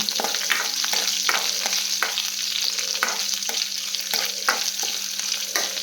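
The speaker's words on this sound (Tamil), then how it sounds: "ஆனியன் போட்டு ஃப்ரை பண்ணிவிட்டு கொஞ்சம் நல்லா வதங்கட்டும்" Sliced onions sizzle and crackle steadily in a pan of hot oil for a brinjal kadayal, with regular scrapes and knocks of a spoon stirring them, close and fairly loud throughout.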